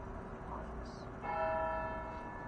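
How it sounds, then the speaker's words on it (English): A swinging bell rings with a faint, sustained, steady tone that starts partway through and holds to the end over quiet background noise. "Well, the bell's swinging."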